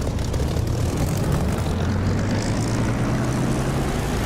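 A propeller aircraft engine in the DCS flight simulator game throttles up, giving a loud, steady droning roar with a rising tonal hum and no talking.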